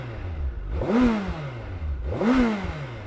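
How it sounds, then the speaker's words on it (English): Two sharp throttle blips from a 2025 Suzuki Hayabusa GSX-1300R through the stock exhaust, close up, each swelling and dropping back to a burbling idle between revs. "Wow, what a nice sound from a stock system."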